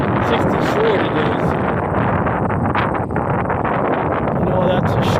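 Strong wind buffeting the microphone at a high scenic vista on a cool fall day, a steady loud roaring rush that never lets up, with someone speaking faintly beneath it.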